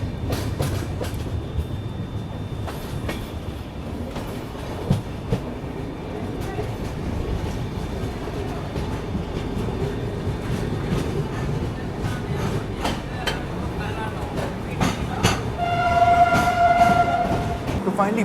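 A train pulling into Titlagarh Junction railway station in Odisha, a steady rumble with wheel clatter and clanks throughout, swelling slightly near the end with a brief tonal squeal or horn-like note.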